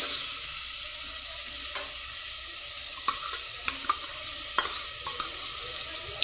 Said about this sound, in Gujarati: હવે આપણે તેને ચમચા વડે હલાવીને મિક્સ કરી લઈશું.